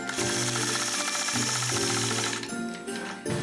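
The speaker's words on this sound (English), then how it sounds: "I'll engage the machine and stitch along that curve." A sewing machine quilts a 3-inch curve along a Sway machine quilting ruler, giving a loud, steady rapid stitching buzz with brief pauses and pitch shifts as the speed changes, with no talking.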